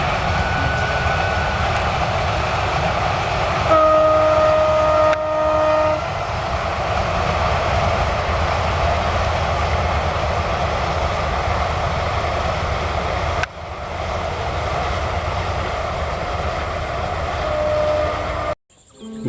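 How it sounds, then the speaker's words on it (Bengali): A train runs along a rail line through rice fields at harvest time, a loud continuous rumble and clatter held close throughout, with a brief tonal horn-like blast early on, no talking. "রেল লাইন দিয়ে সেই সুন্দর একটি ট্রেন যাচ্ছিল"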